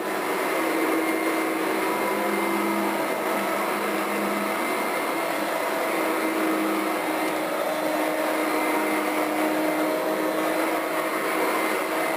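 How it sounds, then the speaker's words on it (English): Steady, loud whirring roar of a running Kirby upright vacuum with powered wheels, constant throughout with a faint high whine and no speech. "This is a big, huge Kirby vacuum cleaner too."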